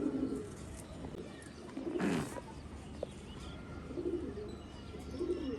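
Pigeons coo in a series of soft, low, rounded calls that recur a few times nearby against a quiet background, with one brief brighter burst partway through.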